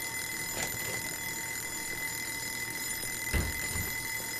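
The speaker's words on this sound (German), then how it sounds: "Es hört sich an wie eine Eieruhr." A kitchen timer rings in the Joe's Diner video game on PS4, a steady, continuous electronic ringing that runs the whole stretch at moderate volume, with a faint soft bump near the end.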